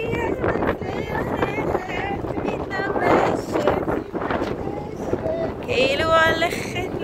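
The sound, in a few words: strong wind at the Cape of Good Hope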